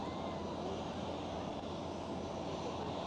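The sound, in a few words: SkyUp Airlines aircraft passing at Schiphol Amsterdam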